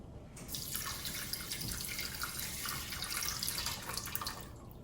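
Water streams into a cooking pot for quinoa, a continuous bright splashing pour that starts abruptly, runs steadily and stops near the end.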